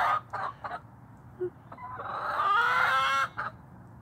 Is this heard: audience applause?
no